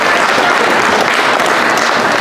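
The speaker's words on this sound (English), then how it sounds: "I want to give a big round of applause to both Randy and Owen for spearheading this initiative." Dense, loud audience applause at an MS Society donation event, a steady wash of many hands clapping throughout, close and continuous with no speech on top.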